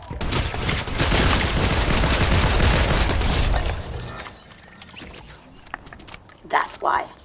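Shotgun blasts from the jump shotgun in Fortnite, a dense loud volley of gunfire for the first four seconds, then quieter game sounds with a couple of sharp bursts near the end.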